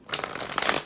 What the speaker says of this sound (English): Let's do a couple quick shuffles here.